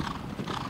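Racehorses training at Laurel Park, Maryland, with a quick, steady run of hoofbeats heard close and loud for a moment, no voices.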